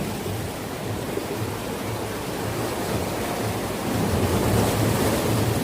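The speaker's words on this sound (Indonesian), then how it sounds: "mencari sensasi suara ombak yang bisa menjadi terapi ya, penghilang stres" Ocean waves roll in a continuous broad rush at a secluded beach beside Bingin Beach in Bali, swelling louder toward the end, with wind blowing across the microphone.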